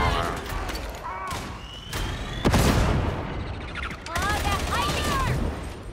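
Grenade blast in the Warhammer 40k Darktide video game amid heavy gunfire, a loud sharp boom near the middle within continuous shooting, with voices over the top.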